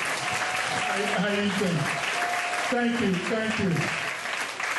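Audience applause at an awards ceremony fills the room steadily throughout, loud and continuous, while someone speaks briefly over it.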